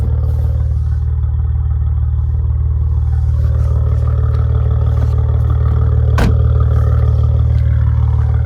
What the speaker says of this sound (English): But just love the sound of the car overall. The engine sounds good. The exhaust sounds fantastic.